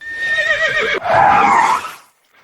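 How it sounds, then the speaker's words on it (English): A carriage horse lets out a loud, close whinny that rises and trembles, then breaks into a rougher, breathier second neigh before cutting off into quiet. "We had almost reached the marble bridge to Zeus's court when the horses stopped"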